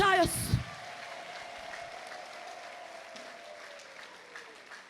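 A church congregation claps in praise during a Kinyarwanda sermon. A brief voice opens the sound, then steady, moderate applause continues under a soft sustained musical tone.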